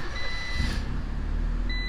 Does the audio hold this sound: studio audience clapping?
no